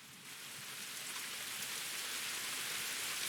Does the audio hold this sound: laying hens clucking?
no